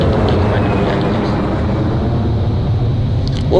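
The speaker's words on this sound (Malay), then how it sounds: "ada kapal terbang lah guys" Airplane landing in the video game Ghost Recon Future Soldier, a steady, loud engine roar that holds at constant level throughout, broad and rumbling with no breaks.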